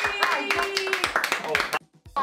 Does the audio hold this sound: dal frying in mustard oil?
no